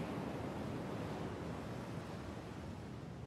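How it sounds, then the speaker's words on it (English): Sea waves breaking on a beach at night: a continuous broadband wash of surf, steady and enveloping with no distinct breaks, heard alone. "But that night, I could hear the sound of the waves."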